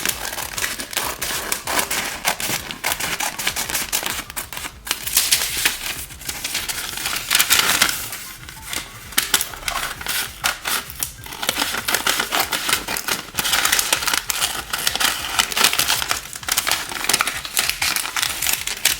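Scissors snip through folded paper while squares are cut for muffin liners, a fast crisp run of cuts and crinkles that goes on close and loud, pausing briefly midway, with no voice.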